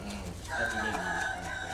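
A fighting rooster crows close by in a drawn-out call that rises and wavers, with softer clucking and bird sounds around it and no talk.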